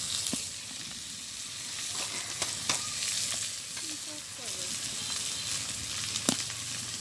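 Pointed gourd frying in a pan and being stirred, in a village kitchen: steady sizzling with scattered scraping clicks of the stirring utensil, close and moderately quiet, no one speaking.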